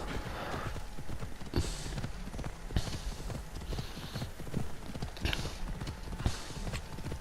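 In Assassin's Creed Odyssey, a horse's hooves clip-clop in a steady trotting rhythm, close and clear, over a continuous outdoor ambience.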